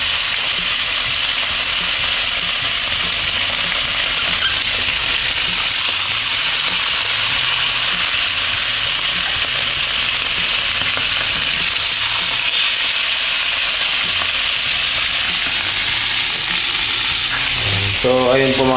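Eel frying in a non-stick pan, a continuous loud sizzle and crackle of hot oil that stays steady throughout, with a brief clatter near the end.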